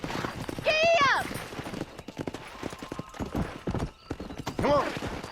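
Hooves clip-clop quickly as a horse gallops in the video game Red Dead Redemption, with two loud whinnies, one early and one near the end, and a rider's voice calling out between them.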